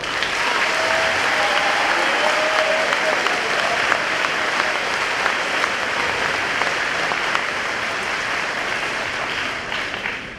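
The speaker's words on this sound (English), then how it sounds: "please give a round of applause for all of our award recipients and graduates today" Sustained audience applause fills a hall at a senior awards assembly for award recipients and graduates: dense, steady clapping that is loud and even throughout, easing slightly at the very end.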